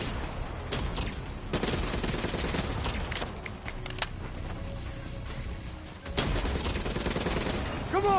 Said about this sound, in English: Hit it with the RPG!